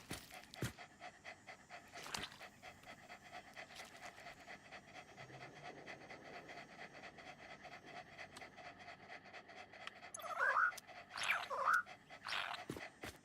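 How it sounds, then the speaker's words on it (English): Several dogs pant close by in quick, rhythmic breaths, with a few louder huffs and faint whimpering near the end, in a quiet indoor space. "Look at my flock of doggos."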